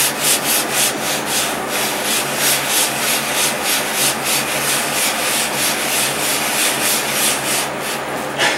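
Polishing compound rubbed by hand over the anodized aluminum finish of an AR-15 upper receiver, a steady close scrubbing in quick regular back-and-forth strokes, continuous and fairly loud with no talking.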